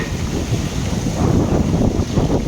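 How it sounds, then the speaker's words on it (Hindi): Strong wind blows steadily through an outdoor garden in Mumbai during a storm, a loud constant rushing roar with heavy microphone buffeting and no speech. "बम्बई में आज इतनी तेज हवा चल रही है"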